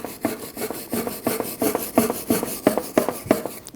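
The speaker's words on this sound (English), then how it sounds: "Using a wire brush, we're going to clean our caliper bracket." A wire brush rubs back and forth in rhythmic rasping strokes over a rusty brake caliper bracket from a 2012-2022 Volkswagen Passat, about a dozen close, steady scrubs with no talking.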